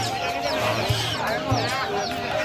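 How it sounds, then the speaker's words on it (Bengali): Chickens cluck and squawk among ducks at a busy traditional village poultry market in Narayanganj, several close birds calling in short bursts over a background of crowd chatter. "এখানে হাঁস মুরগির অংশ, দেশি মুরগি, হাঁস, সোনালী মুরগি"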